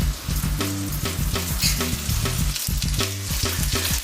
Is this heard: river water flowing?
no